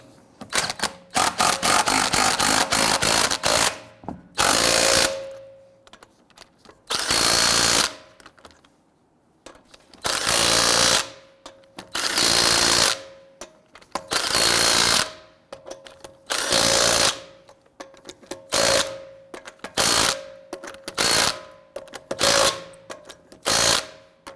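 A power impact tool tightens wheel lug nuts on a 2008-2017 Buick Enclave: rapid rattling bursts at first, then repeated loud hammering runs separated by pauses, close and without speech.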